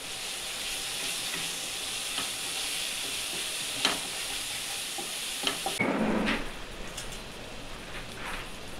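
Turmeric, coriander powder and chilli powder are sautéed over low heat for a milk paneer curry, giving a continuous close sizzle with light spoon scrapes and taps, a brief louder stirring burst near the end.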